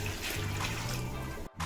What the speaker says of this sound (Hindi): अब मैं इसमें ऐड करने जा रही हूँ यखनी और पानी मिक्स।